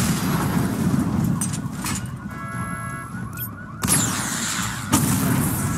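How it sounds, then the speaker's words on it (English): Batmobile missile barrage explosions in the Batman Arkham Knight video game: loud, continuous, rumbling blasts layered with alarm-like tones, with sharper bursts hitting near the end. "Destroy targets to charge up weapon energy and activate missile barrage."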